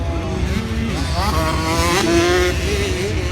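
Motocross dirt bike engines in a kids' 12-and-under final heat, loud and close, revving and rising in pitch as the bikes accelerate, with several engines overlapping continuously.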